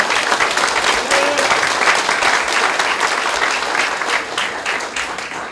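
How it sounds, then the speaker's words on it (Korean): Supporters give warm applause at the opening of a candidate's campaign office in Pohang, a sustained wall of clapping lasting several seconds and easing slightly toward the end, with a brief voice near the start. "여러분 경도의 박수 한번 뜨겁게 보내주십시오"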